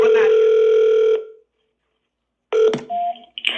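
A telephone rings on a recorded 911 emergency call, a loud steady electronic tone lasting about a second, then silence, followed by another ring mixed with clicks and shorter tones.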